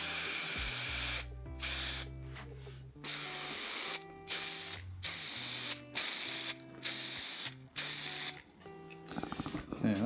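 A spray can fires in a series of loud, close hissing bursts separated by short pauses, about eight in all, with a brief rattle near the end.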